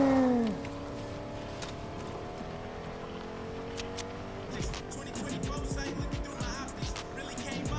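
Truck driving in a video game, a steady engine drone with gliding pitch shifts and scraping skid-like tire noise, while players talk over it.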